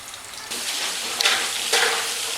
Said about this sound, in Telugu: ఆయిల్లో ఇవన్నీ వేసేసుకోవాలి